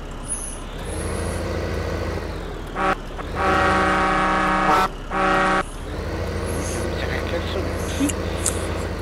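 In the Farming Simulator 2015 game, a vehicle horn blares in long sustained blasts with brief gaps, loud over the steady engine rumble of farm machinery, while players talk.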